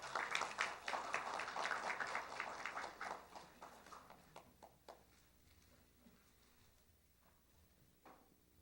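At a software industry protection award ceremony, a hall audience gives congratulatory applause: dense, close clapping for about four seconds that thins into a few scattered claps and dies away.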